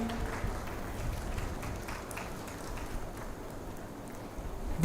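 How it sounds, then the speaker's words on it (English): An audience applauds at a corporate conference of a professional forum, a continuous wash of clapping from a crowd that holds steady for several seconds. "can we have a round of applause for Mr."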